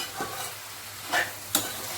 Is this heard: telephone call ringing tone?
no